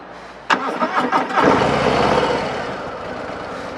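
A Harley-Davidson Low Rider S motorcycle engine cranks with a few quick sputtering bursts, then catches and settles into a steady, fairly close idle rumble.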